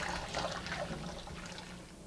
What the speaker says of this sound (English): what you're going to do is knead the dough inside the bowl and the water